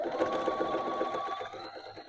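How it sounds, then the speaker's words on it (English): A sewing machine runs steadily, stitching a quarter-inch seam on a dress, with a continuous close whir and rhythmic needle pulses for about two seconds and no talking. "It's just a really hard seam allowance, I think, to follow."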